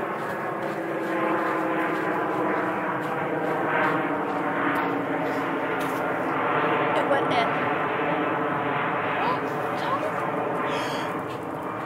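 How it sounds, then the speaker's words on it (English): An airplane flying overhead gives a broad, steady roar throughout, mixed with outdoor noise and people talking nearby. "Aeroplane."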